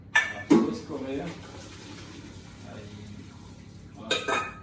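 Boiled potatoes being drained: hot water pours and splashes while metal pots and utensils clink and clatter, loudest at the start and again at the end, with a voice talking in between.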